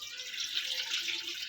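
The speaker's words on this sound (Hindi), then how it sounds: "तो मैंने एक बार फिर भी इसमें से ना पानी जो है वो छान के निकाल देती हूँ" Boiled water poured off cooked rice through a strainer, a soft continuous trickling and splashing of liquid, faint and close, with no talk.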